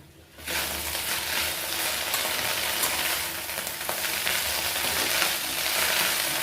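Moringa leaves sauté in hot oil, a steady sizzling hiss that starts abruptly and continues evenly, with faint stirring noises and no talking.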